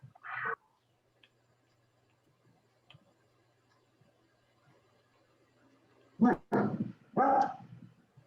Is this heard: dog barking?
yes